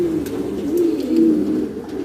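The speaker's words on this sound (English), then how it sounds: "the genetics of white homing pigeons and what is really a white homing pigeon" White homing pigeons coo close by in a soft, repeated low rhythm of rolling calls, with faint background noise throughout.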